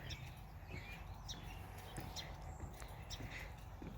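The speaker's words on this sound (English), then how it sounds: "I don't know if you can hear all the birds." Birds chirp and call across a rainy marsh, brief bright notes repeating irregularly at a moderate distance over a steady background hiss.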